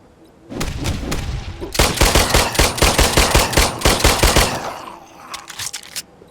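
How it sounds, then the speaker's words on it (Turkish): Rapid bursts of automatic gunfire rattle loudly and close at a zombie in The Brookhaven VR video game. The shooting is nearly continuous for several seconds, then tapers into a few scattered shots. "Tamam indirdim gözlerinden vurdum valla"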